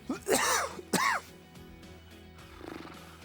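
Two sharp, harsh coughs close together near the mic, followed by quieter rustling and a faint low murmur.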